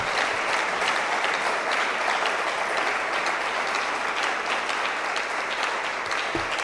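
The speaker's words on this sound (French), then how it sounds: "Est-ce qu'on peut acclamer pour la gloire de Dieu?" A church congregation at a Sunday service applauds in a sustained, even burst of many hands clapping, dense and steady from start to finish, with no talk over it.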